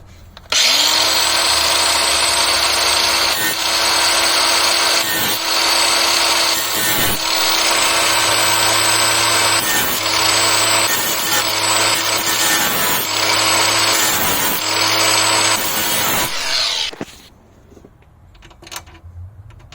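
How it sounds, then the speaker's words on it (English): An angle grinder cuts through stripped screw heads with a loud, continuous high whine, broken by brief dips as the disc bites in, before it winds down near the end. "We have our tool of destruction, as usual my favorite, the angle grinder."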